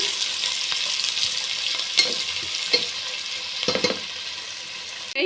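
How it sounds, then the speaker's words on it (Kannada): Chopped onions frying in oil for chicken biryani, a steady close sizzle holding throughout with a few soft stirring clatters. "ಇದನ್ನು ನೀಟಾಗಿ ಆಯಿಲಲ್ಲೇ ಫ್ರೈ ಮಾಡ್ಕೊಳ್ಳಿ"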